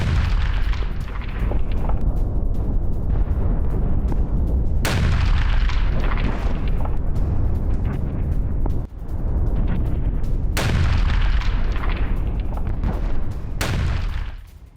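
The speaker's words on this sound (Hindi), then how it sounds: "इजरायली जेट ने तिर हरफा में बम बरसाए।" Israeli jet air strikes hit Tir Harfa in Lebanon: a loud, continuous rumble of bombing, with several sharp, heavy blasts at intervals.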